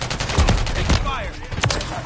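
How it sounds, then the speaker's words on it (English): Rapid bursts of gunfire in a shooter video game, close and loud, with crackling shots in quick clusters and faint background effects. "Taking fire."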